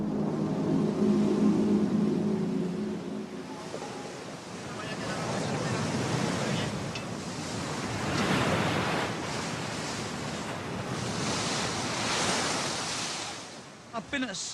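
Stormy sea waves surge and crash under gusting wind, a continuous roaring wash that swells and ebbs, with a voice speaking over the opening seconds.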